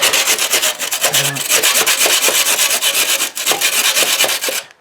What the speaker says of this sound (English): I quite often use an old wood saw for mortar